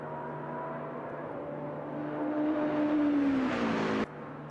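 Porsche and Lamborghini race cars in a Le Mans endurance video game race, one engine whining upward in pitch as it accelerates and passes, then cutting off abruptly to a lower drone.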